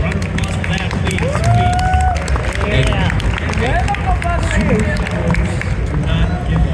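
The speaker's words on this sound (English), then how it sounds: "A round of applause for that, please." An audience at an Ultra Gaming Expo 2024 Q&A panel with an actor claps and cheers in a steady, loud crowd roar while voices call out over it.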